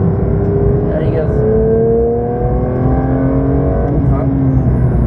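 Race car accelerating hard around the Dreux circuit, a loud, close engine roar with rising pitch sweeps as it climbs through gears, with a driver's voice heard briefly over the engine.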